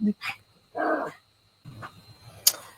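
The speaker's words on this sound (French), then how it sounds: "il y a la chienne qui se met à aboyer" Female dog barking indoors, a few loud close barks and yelps with short pauses between them, mixed with some whimpering sounds and no clear speech.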